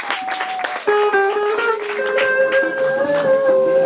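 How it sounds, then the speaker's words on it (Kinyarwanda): Audience clapping at a Rwandan wedding celebration, a steady patter mixed under a sustained sung or instrumental melody, moderately loud. "reka tubongere amashyi menshi cyane rwose."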